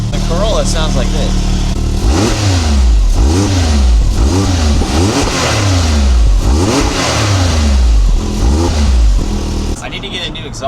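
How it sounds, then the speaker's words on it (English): A Toyota GR Corolla's three-cylinder engine revs hard again and again, each blip climbing and falling in a rhythmic series of about eight loud, close snarls before settling at the end. "The Corolla sounds like this."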